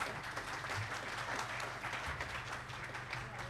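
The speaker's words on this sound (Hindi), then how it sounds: "इनके लिए तालियां प्लीज जरा।" Audience applause at a mushaira, a poetry gathering honoring Usman Ghani, with steady clapping sustained throughout, moderately loud and continuous without any voices over it.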